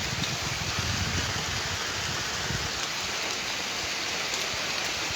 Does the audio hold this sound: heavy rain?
yes